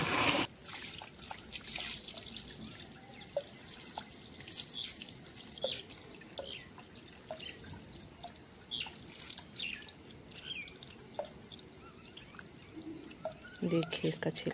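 Soaked lentils for Chhattisgarhi-style rakhiya badi are rinsed under running tap water to strip their husks: a steady close splash and trickle with small drips and clinks throughout.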